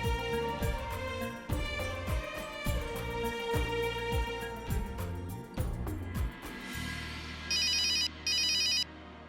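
Music with a steady beat plays, then it stops and a phone rings in two short bursts of an electronic ringtone, clear and close.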